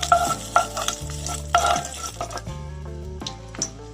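A spoonful of oil sizzles and crackles steadily as spices are tempered, while a spoon scrapes and stirs the pan in short, repeated strokes, with no talking.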